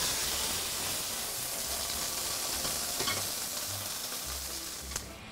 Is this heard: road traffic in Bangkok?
no